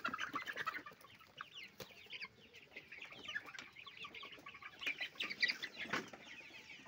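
Sonali chickens raised on a rooftop cluck and chatter steadily while eating, a cluster of hens with overlapping soft calls and a few louder squawks, moderately near and without talk.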